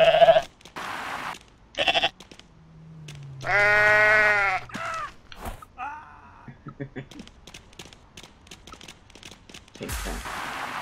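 Goat bleating in the video game Goat Simulator, one long loud wavering bleat between short bursts of game noise and brief talk, with a sharp bang near the end.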